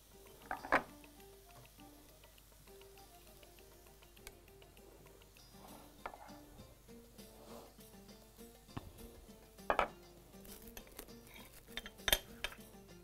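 Toast slices being laid out in a dish, with soft clinks and taps of bread against the dish and utensils spread through a quiet kitchen scene, with a few sharper clinks now and then.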